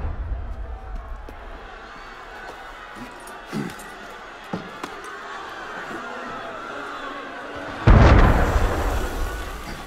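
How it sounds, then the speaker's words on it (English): Cannon fire in the game Assassin's Creed Unity comes as scattered distant thuds, then one loud close blast near the end that rumbles away, all under a murmuring crowd ambience. "That was cannon fire."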